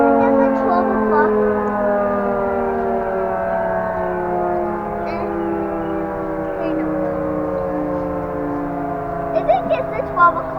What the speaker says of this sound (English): Perfect timing for the sirens in town.